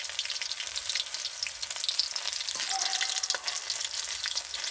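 Shallots and garlic fry in hot oil with a dense, close, crackling sizzle that stays even throughout, a few light clinks breaking through.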